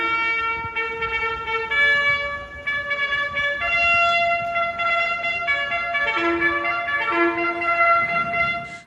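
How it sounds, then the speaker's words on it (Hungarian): A military trumpet sounds the Call to the Colors at an American rodeo, clear sustained brass notes rising and falling in a steady bugle-style melody, loud and up front over a faint crowd murmur. "amikor megszólalt a katonai trombita szó"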